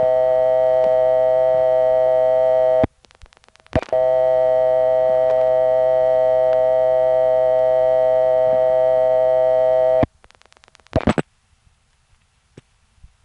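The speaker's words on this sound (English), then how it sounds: "One time, however, the dial tone came back." A steady telephone dial tone hums on an old step-by-step exchange line, broken by a short gap and clicks, then returns for several seconds before cutting off into switching clicks and faint line noise.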